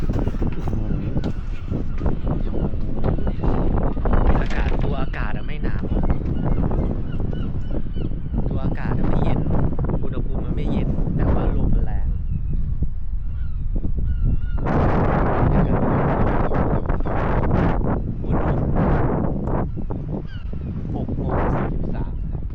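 Strong wind buffets the microphone without a break at Ironman Wales, a loud, continuous rumbling roar with a person talking faintly underneath.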